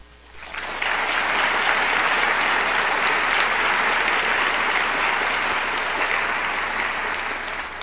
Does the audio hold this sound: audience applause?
yes